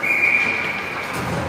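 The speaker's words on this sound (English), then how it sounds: "Whistle goes." A referee's whistle shrills at a youth under-13 ice hockey game, one sustained blast lasting under a second, loud and close over rink ambience.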